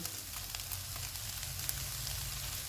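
A pan sizzles quietly and steadily as green onion goes in for chicken egg rolls, a faint continuous frying hiss over a low hum.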